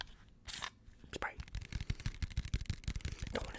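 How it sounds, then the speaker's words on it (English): Tapping on a Febreze aerosol can, close and crisp, with irregular taps following a short burst of spray near the start; faint mouth sounds or whispering run underneath. "I have a Febreze can. Tap a little bit. Spray a little bit."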